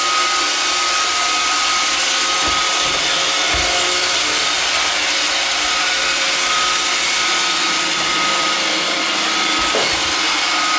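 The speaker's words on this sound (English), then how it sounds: "I'm going to give a little bump so you guys can see that the bumper sensor works just fine." An iRobot Roomba 530 robot vacuum runs with a steady, loud whirring drone throughout, and a couple of faint knocks suggest its bumper being tapped.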